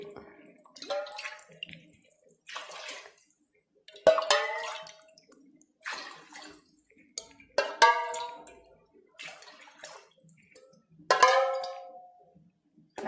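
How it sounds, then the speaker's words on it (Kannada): Glasses of water are poured into rice for a green chilli biryani, several short splashing pours in bursts, with a person talking between them. "ನಾವು ಯಾವ ಗ್ಲಾಸಲ್ಲಿ ಅಕ್ಕಿ ಹಾಕ್ಕೊತೀವೋ ಅದೇ ಗ್ಲಾಸಲ್ಲಿ ನೀರು ಸೇರಿಸ್ಕೋಬೇಕು"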